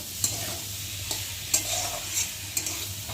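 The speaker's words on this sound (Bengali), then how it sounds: "এই যে আদা বাটা আর টমেটো কুচি, দিয়ে একটু ভালো করে কষিয়ে নেব" Ginger paste and chopped tomato sauté in a pan, a constant close sizzle broken by several sharp scrapes of a spoon stirring against the pan, with no voices.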